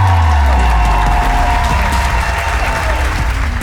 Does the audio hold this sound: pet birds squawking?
no